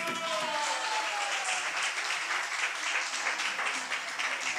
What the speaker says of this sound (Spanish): Aplausos para Patricia Maldonado.